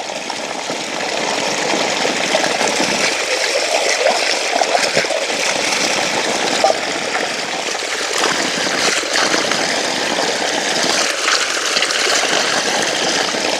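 Spring water gushing strongly from a mountain source, a continuous loud rushing and splashing flow with no voices over it.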